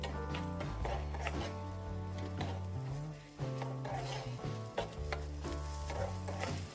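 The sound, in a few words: chopped onions frying in ghee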